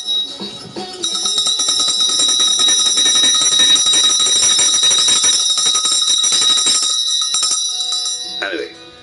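A bell rings in rapid, continuous metallic trills for several seconds, bright and close, then stops abruptly, with a voice briefly audible near the end.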